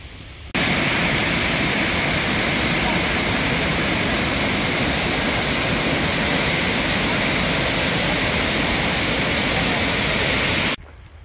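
A steady, full roar of falling water at Burney Falls, loud and constant throughout with no voices, like standing close to the waterfall.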